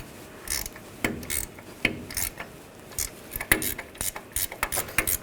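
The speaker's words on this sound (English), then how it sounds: "we're gonna loosen up this nut using an 18mm wrench. And you can switch to a ratchet wrench" A ratchet wrench loosens an 18mm nut on the front lower control arm of a 2014-2018 GMC Sierra 1500, producing repeated bursts of quick metallic clicking, close and distinct with no talking.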